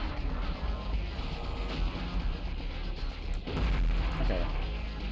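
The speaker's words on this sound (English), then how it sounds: "Wait, he's shooting at me." Enemy gunfire and explosive booms in the video game Future Cop L.A.P.D., a dense continuous barrage of bursts with a heavier blast near the end, loud and close.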